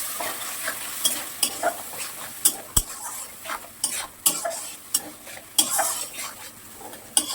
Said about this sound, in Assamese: জিৰা ধনিয়াৰ গুড়ি আৰু অলপমান পানী দি কেনে মছলাটো আমি ভালকৈ সিজাই ল'ম